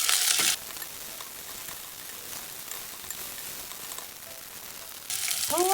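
Egg frying in a pan while making veg thukpa, a soft, even sizzle held close and fairly quiet. Brief louder bursts of hiss come at the start and the end.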